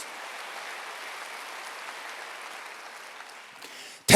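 A church congregation at a Wednesday worship service claps in a sustained, even patter that fades slightly before a sudden loud burst at the end.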